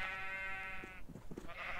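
A Minecraft sheep bleats in a long, wavering, nasal cry for about a second, followed by softer scattered game noises and faint background clatter.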